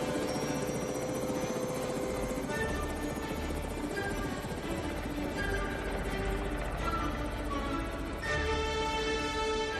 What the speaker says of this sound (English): Helicopter 405 heading back to platform POC.